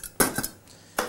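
Empty metal bean tin dropped into a recycling bin, a few bright clanking metallic knocks in close succession, then one final clink a moment later, close and fairly loud.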